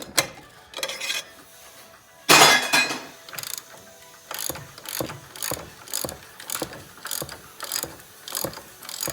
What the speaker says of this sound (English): We got our 21mm wrench where the inside of the bolt is